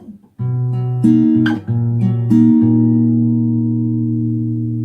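Fingerpicked guitar chords move through the short progression of a song, each change marked by a fresh pluck, the notes ringing and sustaining up close.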